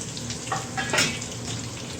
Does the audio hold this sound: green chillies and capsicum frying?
yes